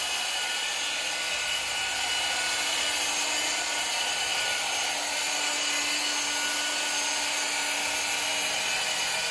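A Rupes rotary buffer polishes car paint with a steady, high, hissing whir and a faint constant tone, running continuously and close by without talking.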